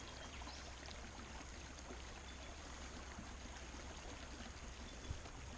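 Water sloshes and trickles steadily in a gold prospecting pan as it is backwashed, the pan holding large, heavy black stones; a continuous, fairly faint rushing wash with no voices.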